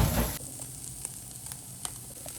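Paneer and garlic dry-roast in a pan with a soft, steady sizzle that stays faint and even. A brief louder burst opens the sound before it settles.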